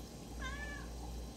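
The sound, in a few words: cat meowing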